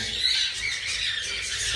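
A bird squawks and squeals in a steady, shrill run while a person handles its legs to fit a brace for split legs. The calls are close and fairly loud, with no talk.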